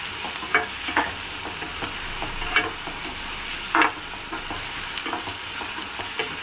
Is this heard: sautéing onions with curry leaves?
yes